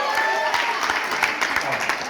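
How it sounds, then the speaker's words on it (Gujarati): Audience applause in a gathering hall, a short burst of steady clapping from many hands while a voice talks over it. "જોરદાર તાળી એમના માટે, જોરદાર તાળી."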